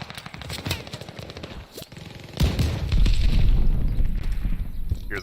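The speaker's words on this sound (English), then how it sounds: "Hear the shotguns." Rapid gunfire and heavy blasts from a shooter video game, with loud bursts that swell and continue densely through the second half.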